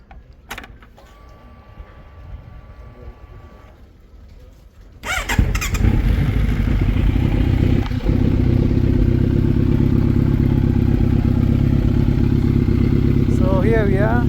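A sport motorcycle, either a Yamaha R1 or a Kawasaki Z900, starts up after a few quiet seconds and settles into a loud, steady idle close by, with a brief rev and a short squeal near the end.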